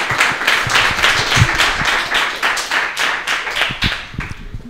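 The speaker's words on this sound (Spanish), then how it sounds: "Un aplauso para Pablo." An audience gives loud, close applause to a winner at a prize presentation, with dense overlapping clapping that carries on steadily throughout.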